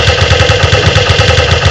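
An Uzi submachine gun fires in a video game, a loud, close, rapid and even burst of shots that runs without a break for the whole stretch.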